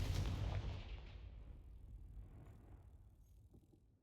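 A Confringo blasting spell explodes in the video game Hogwarts Legacy: a loud, close, broadband burst that rumbles and fades away over about four seconds, with no voices.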